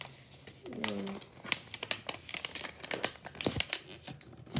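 A paper birthday card is folded by hand, giving soft crinkling and crisp creasing rustles in uneven bursts, close and fairly quiet.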